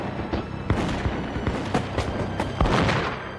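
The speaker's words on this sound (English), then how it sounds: "two of Washington's columns fired at each other." Musket gunfire in a foggy battle, a Revolutionary War sound effect of scattered overlapping shots and booms cracking irregularly at mid distance over a rumbling background, with no speech.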